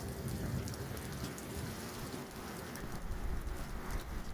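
Steady rain in Niigata, Japan patters and hisses on surfaces throughout, moderately quiet, with no voices.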